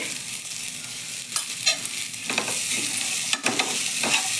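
Fresh green peas sizzle in hot oil with asafoetida and turmeric in a pan, a bright continuous frying hiss broken by a few scraping stirs, with no talking.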